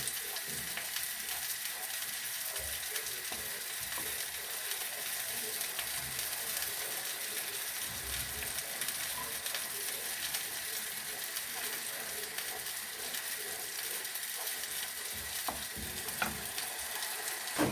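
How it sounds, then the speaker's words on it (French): Onions reduce toward a confit in a pan, giving a continuous dense sizzle with faint scraping and ticking from stirring running throughout. "on va laisser réduire un maximum pour que ça rentre comme si c'était un confit d'oignon"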